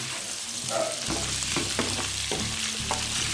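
Cubed potatoes roast in ghee in a pan with a steady close sizzle, broken by several scraping stirs of a spoon against the pan.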